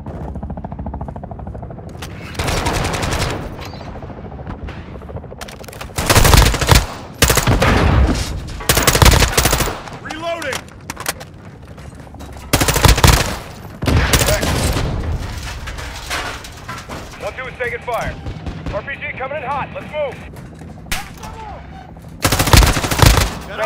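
Gunfire from the video game Call of Duty: Modern Warfare II comes as repeated loud bursts of automatic fire and single shots, spaced irregularly across the stretch, with brief radio chatter between volleys.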